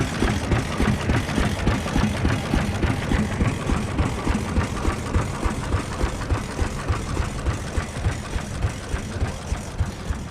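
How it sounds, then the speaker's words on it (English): A 6-horsepower International stationary engine runs at a steam show, a steady, close chugging with regular rhythmic pops that continues throughout against outdoor background noise. "Very nice running 6-horse International."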